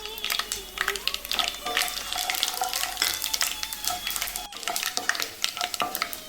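Cumin seeds and whole black peppercorns dropped into hot oil for green apple pickle, crackling and sizzling with scattered sharp pops and stirring scrapes, steady and close.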